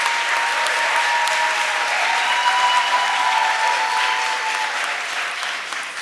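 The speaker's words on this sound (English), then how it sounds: "Can we get a big round of applause for all of them?" Loud, dense applause from an audience at a Spring 2024 Retail Boot Camp pitch showcase rolls on for several seconds to cheer the entrepreneurs, then tapers slightly at the end.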